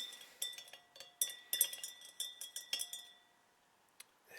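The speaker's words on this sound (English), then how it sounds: "So I'll give that a stir." A vinegar solution is stirred in a glass, giving a quick run of bright clinks and taps against the glass for about three seconds, then near silence with one last faint tap.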